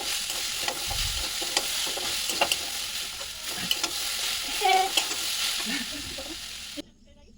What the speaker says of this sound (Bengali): এবার এর মধ্যে কাঁকড়া দিয়ে একটু নেড়ে চেড়ে নেব।